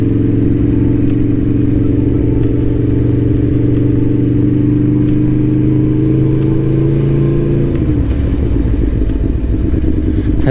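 A 2021 Aprilia Tuono V4 Factory motorcycle engine pulls hard in second gear, its loud, steady drone rising in pitch. It then drops sharply near the end as it shifts up. The rider is not heard talking, only heavy wind rush.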